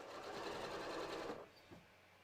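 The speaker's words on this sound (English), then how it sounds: "I am just going to stitch about 3/8 of an inch away from the edge." A sewing machine stitches a stretch-fabric inseam with SeraFlex thread, a fast steady whirring run for about a second and a half, then stops with a soft click, quiet and close.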